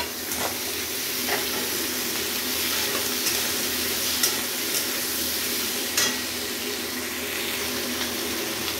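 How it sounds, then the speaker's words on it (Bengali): Potatoes sizzle in a pan with fried pointed gourd as they are stirred, a continuous close crackling fry with occasional scraping knocks of the spoon, and no talking. "ভেজে নিয়ে ওর মধ্যে আলুগুলো দিয়ে দেবো।"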